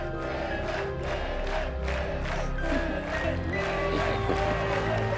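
Stadium crowd roaring and cheering for a youth football team in a Pele film, a dense sustained swell of many voices with whoops, mixed under a musical score.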